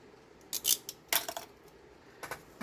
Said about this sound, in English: I'll cut this piece off here